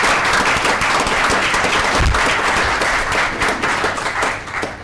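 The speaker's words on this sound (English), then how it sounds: "Can we give her a round of applause?" Conference audience applause, loud and continuous, a dense wash of many hands clapping close by, with a brief low thump partway through before it tapers slightly at the end.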